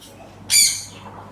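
A single sharp, shrill parrot squawk bursts out briefly from a caged parrot over a quiet room with a faint steady hum.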